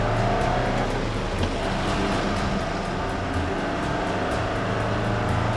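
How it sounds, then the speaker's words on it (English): A Toyota Dyna Tri Cab six-door truck accelerates slowly. Its engine drones in a steady, moderately loud tone, heard from inside the cab with no talk. "Do a little acceleration here."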